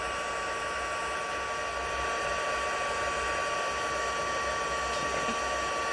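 A heat embossing tool blows hot air over paper with a steady, hair-dryer-like whoosh and a faint motor whine. It stays constant and close for several seconds, with no talking.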